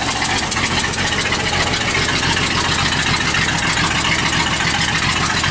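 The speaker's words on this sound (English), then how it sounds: "So that's a cold start right there." A 1957 Studebaker 3E one-ton truck engine running after a cold start on a small temporary fuel bottle, a loud, steady, rough idle close by with no pauses.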